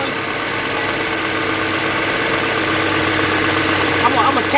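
A 2009 BMW X idles with a low exhaust and turbo rattle on the low-pressure side, a steady close mechanical clatter carrying faint irregular knocks, while someone talks briefly over it.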